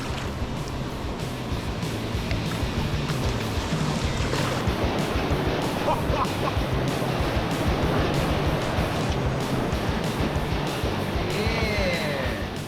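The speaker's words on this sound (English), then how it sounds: "Stay on the right-hand side, go for the biggest waves." Rushing river rapids with large standing waves, heard from a boat running the first, easier rapid of a descent; a dense, steady roar of churning whitewater fills the whole stretch, with wind buffeting the microphone.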